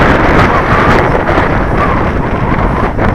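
Loud, gusty wind buffets an outdoor microphone while a radio control model is flown, producing a continuous roaring rumble that swells and dips throughout.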